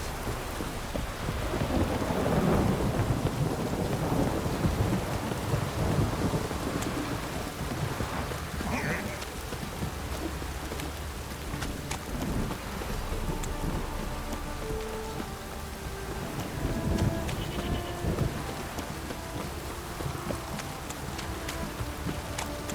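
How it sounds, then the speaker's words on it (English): Heavy rain pours steadily with low rolling thunder rumbling through it, a continuous wash of downpour without any talking, in the video game The Witcher 3: Wild Hunt. "This downpour's a bastard, it is."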